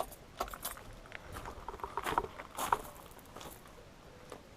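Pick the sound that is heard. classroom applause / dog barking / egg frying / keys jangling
keys jangling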